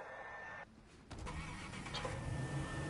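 A car engine in Fortnite cranks and catches after a brief pause, then settles into a steady mid-pitched running rumble, fairly close.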